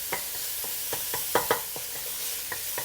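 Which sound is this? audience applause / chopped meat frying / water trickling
chopped meat frying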